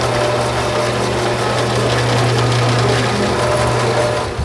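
A historic oil well pump runs at Drake Well in the Oil City, Pennsylvania oil valley, giving a steady, loud mechanical drone with a constant low hum throughout, and no voices.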